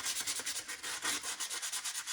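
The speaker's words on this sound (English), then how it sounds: "give a little bit more sanding here" Rhythmic back-and-forth sandpaper scrubbing on a rusty steel headlight bucket patched with JB Weld, steady close strokes at a brisk even pace with no talk.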